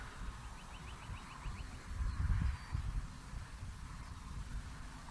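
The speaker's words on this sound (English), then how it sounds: "Come on, birds." Geese honking near a radio-controlled model airfield, a faint run of rapid honks early on, distant and quiet over low outdoor rumble and wind.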